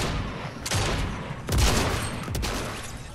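Several sharp gunshots ring out in the Fortnite game, three or four loud cracks spaced irregularly with short echoing tails.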